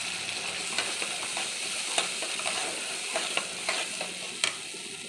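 Steady sizzle of poppy seed paste and cashews frying in a pan, with light scraping stirs and occasional clicks of the utensil against the pan throughout.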